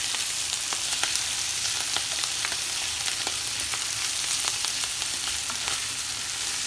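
Spices sizzling steadily in oil in a pan while tagliatelle with zucchini and mushrooms is being prepared, a close, continuous crackle and hiss with scattered sharp pops and no talking.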